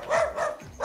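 Dogs barking in a short burst of a few loud yaps close by, at a household visit in the Philippines, with no one talking over them.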